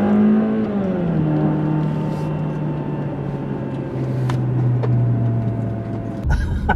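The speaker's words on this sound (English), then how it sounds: "there's an air-cooled GSXR 750 motorcycle engine in it" An autocross car powered by an air-cooled GSXR 750 motorcycle engine drones steadily up close, its pitch dropping as it eases off and holding at a rough buzz before a sudden knock near the end.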